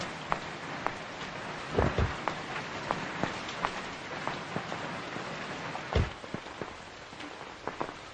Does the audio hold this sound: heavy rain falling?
yes